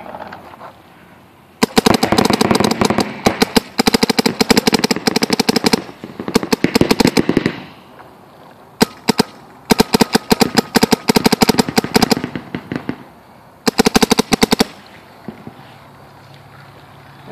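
Empire Axe Pro paintball marker firing rapid bursts of sharp, loud pops in several strings with short pauses between them, close by.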